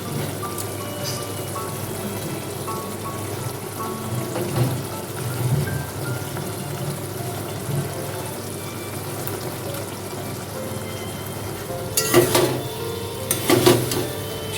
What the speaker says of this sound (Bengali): সয়াবিনটা সব কিছুর সাথে মিশিয়ে নিচ্ছি।